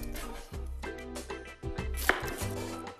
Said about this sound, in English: So now I will cut my onion.